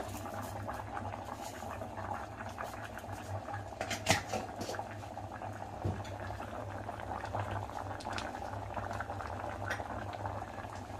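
A pot of brinjal and potato sambar boils steadily, a dense bubbling and popping simmer heard close, with a couple of faint utensil clinks.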